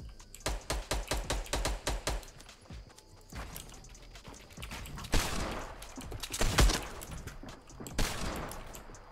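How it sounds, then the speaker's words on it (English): Gunfire in the video game Fortnite Battle Royale, starting with a quick rhythmic run of sharp shots, then heavier scattered blasts and rumbling bursts at moderate loudness. "Where am I getting shot from?"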